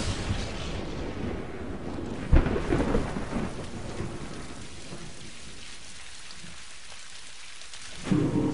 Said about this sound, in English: Tropical storms lash the planet.